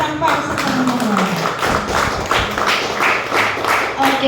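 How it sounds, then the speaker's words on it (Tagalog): A church congregation claps in praise during a worship service, a dense steady patter of many hands with a loud voice speaking over it throughout. "Malakas na palakpak sa Panginoon."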